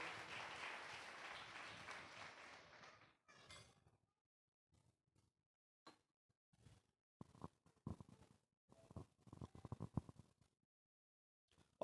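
A church congregation claps together in a brief burst of applause that fades away after about three seconds, followed by scattered faint knocks and shuffling sounds in a quiet hall.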